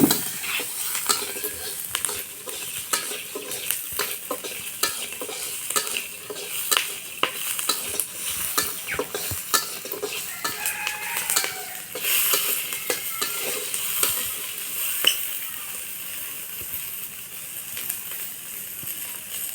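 Chilies and peanuts fry in a wok-style pan, giving a steady soft sizzle broken by frequent sharp clicks and scrapes of a stirring utensil against the metal, close and continuous with no talking.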